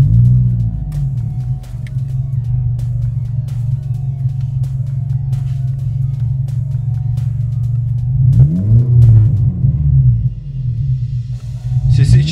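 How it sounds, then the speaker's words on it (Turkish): A Renault Megane with a modified open exhaust idles with a deep, throaty, steady low rumble, then gives a couple of quick revs near the end. "Şimdi sıra egzozumuzu açtıktan sonra aracımızı çalıştırmaya geldi."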